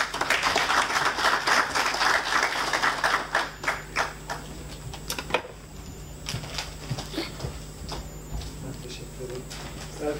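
Seminar audience breaking into dense clapping for a flower presentation, loud at first and then thinning to scattered claps, with voices talking over the tail end.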